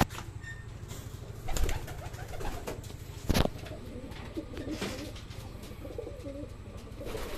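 Racing pigeons coo softly in a quiet setting after a 98 km training flight, low throaty calls repeating, with a couple of brief wing flaps or bumps nearby.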